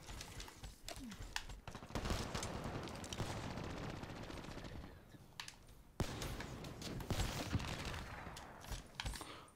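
Dense, rapid gunfire from automatic weapons rattles almost continuously in the video game Black Ops 3, with sharp individual shots punctuating sustained bursts.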